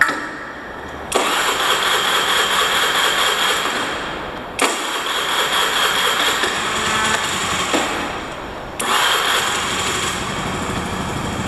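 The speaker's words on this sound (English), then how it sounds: "We're going to try to start the bike." Honda Spacy scooter engine cranking and catching after a battery change, three loud start attempts in a row, each a sudden burst of high-pitched motor whine that runs a few seconds before cutting out.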